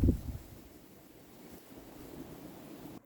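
Wind blows outdoors as a faint, low, steady rush with a soft gust at the start, and nothing else stands out.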